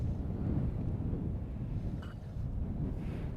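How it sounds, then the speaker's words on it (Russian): Strong, steady wind roars and buffets the microphone beside water during cold-water carp and crucian fishing, a dense continuous rumble with no break and no one talking. "Ветер просто дурячий. Ветер усилился, блин."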